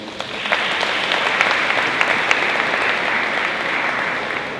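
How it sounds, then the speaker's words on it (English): Steady, full applause from an audience at a university lecture event, sustained and even throughout with individual claps standing out, no talk over it. "Round of applause, please."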